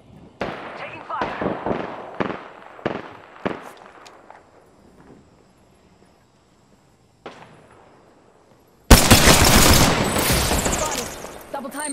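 Gunfire in Apex Legends: a quick run of sharp, rapid shots and bursts up front, a pause with a few isolated cracks, then a sudden loud sustained volley, with a player's voice heard in the mix.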